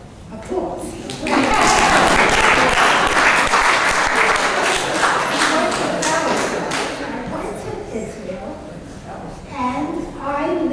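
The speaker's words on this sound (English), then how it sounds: "Applause." An audience applauds at a tribute program, steady clapping that swells after the first second and holds strong for about ten seconds before thinning slightly, with no voices over it.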